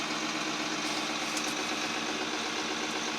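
A John Deere 4640 tractor runs steadily with its PTO engaged, giving a continuous, even mechanical drone with broadband whine and no pauses, heard up close and alone.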